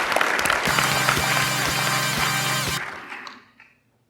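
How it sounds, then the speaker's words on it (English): An audience applauds a lightning talk speaker, with loud, dense clapping filling the room while a low pulsing buzzer tone sounds underneath, then the applause cuts off and fades quickly. "round of applause for Denise"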